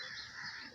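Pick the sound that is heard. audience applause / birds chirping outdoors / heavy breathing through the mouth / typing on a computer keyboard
birds chirping outdoors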